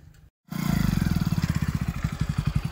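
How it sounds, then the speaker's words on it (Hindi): A motorcycle engine starts up close by after a brief pause and runs with a loud, rapid pulsing putter that speeds up slightly. "मोटरसाइकिल लेकर स्टार्ट करिए"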